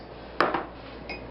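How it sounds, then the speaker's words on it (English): Cheddar cheese dumped into a mixer bowl for a Southern spread, heard as a sharp clink of a utensil against the bowl followed by a softer knock and a faint later tap, with no talk. "then we're going to dump our cheddar"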